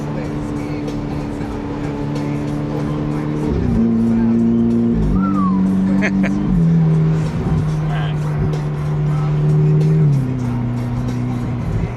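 Ferrari 488 engine droning steadily with distinct stepped pitch drops as paddle downshifts land, each shift shifting the tone lower, heard from inside the car with voices talking over it.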